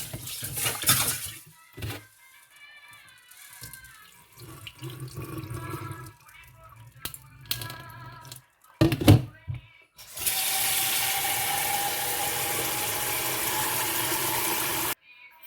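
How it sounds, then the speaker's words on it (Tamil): Water splashes and swishes as lentils are rinsed by hand in a sink, with clinks of a pot, followed by a tap running steadily. "ரெண்டு தண்ணியில் கழுவுறேன்"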